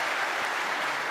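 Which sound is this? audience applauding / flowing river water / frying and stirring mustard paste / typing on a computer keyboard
audience applauding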